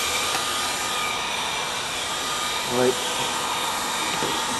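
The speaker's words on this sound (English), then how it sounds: "That can be scraped off with the heat gun." A heat gun blows continuously at close range while softening epoxy on the wood of a 1946 Penn Yan Rainbow wood-and-canvas canoe, a steady loud rushing whir with a brief spoken word partway through.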